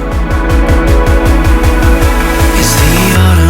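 Loud, dense melodic dubstep drop from a remix, built on pulsing, wobbling bass hits in a steady rhythm beneath full synth layers. A swelling, bright wash rises near the end.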